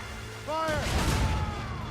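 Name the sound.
ship cannons firing in video game Assassin's Creed Rogue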